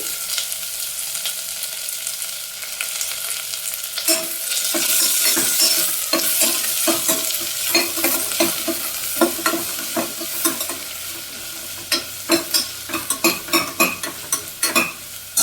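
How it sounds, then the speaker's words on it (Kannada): Garlic and chopped onion fry in a pan, starting as a quiet hiss, then swelling into a loud sizzle with a rapid run of spatula scrapes and taps against the pan. "ಬೆಳ್ಳುಳ್ಳಿಯನ್ನು ಸೇರಿಸ್ತಾ ಇದ್ದೀನಿ, ಜೊತೆಗೆ ಕಟ್ ಮಾಡ್ಕೊಂಡಿರೋ ಆನಿಯನ್ನನ್ನು ಸ್ವಲ್ಪ ಫ್ರೈ ಮಾಡಿ"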